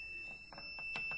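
A robot lawn mower charging station emits a steady high-pitched electronic beep tone faintly, with soft clicks and rustles around it.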